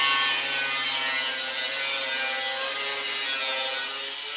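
A steel truck bumper from an 88-98 Chevy dually being cut, a steady harsh grinding whine with a low hum underneath, loud and continuous, tapering slightly at the end.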